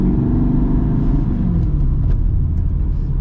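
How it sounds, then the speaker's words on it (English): A manual-swapped Mercedes W203 C55 AMG engine rumbles loud and close while driving, a steady deep drone with slight rises in revs throughout. "This is my first time driving a manual AMG"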